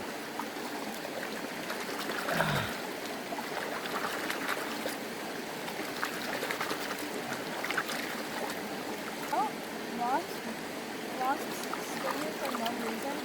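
Water swishing and sloshing in a gold pan in a creek, with a steady outdoor stream wash, a brief deeper slosh early on and scattered light splashes, mixed with faint background noise.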